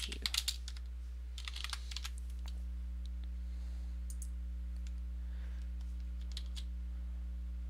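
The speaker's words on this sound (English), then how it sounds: "I will try and type to you." Fingers typing on a computer keyboard: a quick flurry of close clicks at the start, then sparser, lighter taps over a steady low electrical hum.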